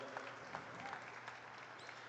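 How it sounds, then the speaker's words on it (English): Faint, distant audience applause rolls steadily at a sheepdog trial at the National Western Stock Show, with a voice briefly heard among the clapping. "They were clapping for you before I shut the gate."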